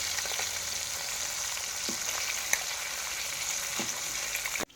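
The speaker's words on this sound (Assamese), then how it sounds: "এই শিঙি মাছ ভাজি আছোঁ বৰ্তমান।" Singi catfish frying in hot oil, a steady close sizzle and crackle that runs without a break, with a few faint clinks of a utensil stirring in the pan.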